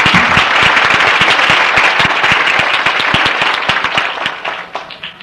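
A crowd applauds a fundraising group at a community building program event, loud sharp claps close to the microphone, steady at first and then thinning and fading toward the end.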